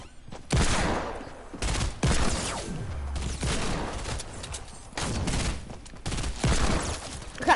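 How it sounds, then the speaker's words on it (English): A hand cannon fires in a video game firefight, with several loud heavy shots going off in rapid bursts close by, separated by brief pauses and trailing echoes. "Someone's coming to me and I have a hand cannon."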